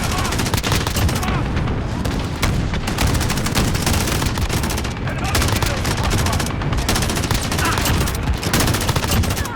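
Rapid, continuous bursts of MG34 machine gun fire in Call of Duty Modern Warfare, loud and close, with dense rattling shots and heavy booming impacts. Only a few short pauses break the firing throughout.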